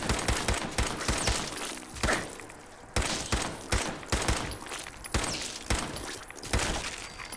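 Rapid bursts of gunfire from the video game Fallout 4 come in repeated loud volleys, with short gaps between clusters of sharp shots, close and with no talking.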